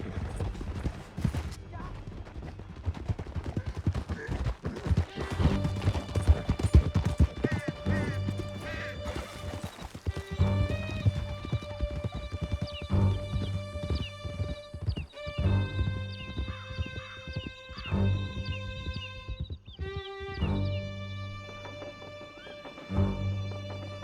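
Horses galloping in a Red Dead Redemption 2 canyon chase, steady rapid hoofbeats throughout with occasional whinnies over a musical score, loud and close.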